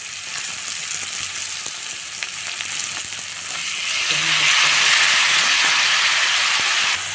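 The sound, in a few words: onions and tomatoes frying in pan for gongura curry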